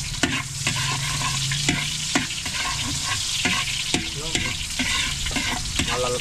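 Shrimp and onion sauté in a pan, loud close sizzling broken by repeated sharp scrapes and knocks of a spatula stirring.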